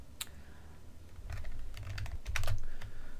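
Computer keyboard typing while writing JavaScript code, a quick close-up patter of keystrokes in short bursts, growing denser and louder toward the end, with no voices.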